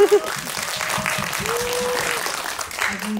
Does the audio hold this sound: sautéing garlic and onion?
no